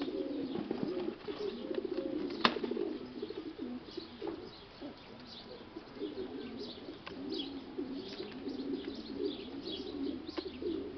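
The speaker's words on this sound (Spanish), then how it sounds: "muy bonita palomita" Soft, continuous cooing from a pigeon being shown at a pigeon auction, a low murmuring coo that carries steadily through the whole stretch with a few faint chirps and wing rustles around it, no talking.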